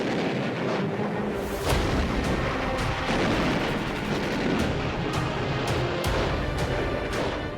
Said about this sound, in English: Then, the big guns of the fleet open up.